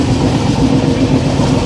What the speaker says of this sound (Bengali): তো ট্রেন এখন দীঘাতে ঢুকছে।